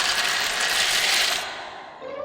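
Steady, loud crackling and crunching from baby birds breaking out of their eggs, a rapid clicking texture that eases slightly before a final burst, with no talking.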